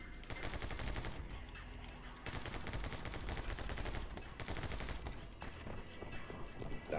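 Rapid video game gunfire crackles in dense, continuous bursts and volleys that stay loud and close the whole time, with a brief lull near the middle before the shooting resumes.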